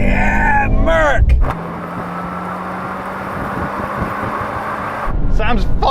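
A BMW M340i, Audi S5 and Mercedes-AMG C43 accelerate hard in a third-gear roll-on drag race, a steady loud engine roar with wind rush heard from inside a car, while people talk over it.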